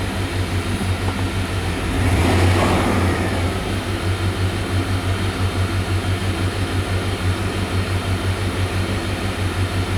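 A 1994 Chevy Silverado's 350 V8, not yet warmed up, revs in a brief loud swell around the two-second mark before settling back to a steady, throbbing idle with a rough, clattering edge throughout.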